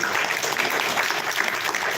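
Steady applause from a crowd of people clapping together for devotees at a spiritual gathering, a dense continuous patter of many hands with no voices over it.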